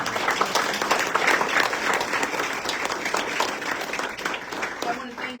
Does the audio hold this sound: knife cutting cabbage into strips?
no